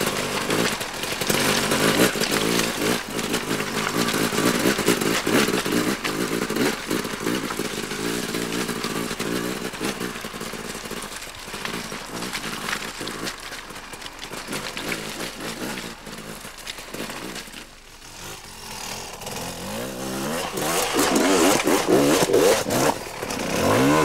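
Enduro motorcycle engine revving and accelerating continuously off-road, a loud, rasping two-stroke-like drone rising and falling with throttle over about 24 seconds, close and dominant throughout.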